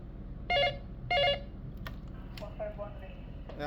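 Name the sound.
telephone being dialed to test line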